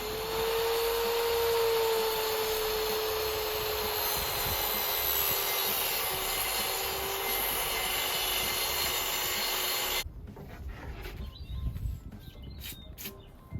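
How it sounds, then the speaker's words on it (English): Plunge saw cutting through a plywood floor inside a Mercedes Vario camper van, a loud steady whine with grinding wood noise for about ten seconds, then cutting off abruptly into quieter handling sounds. "I'm going to use my plunge saw"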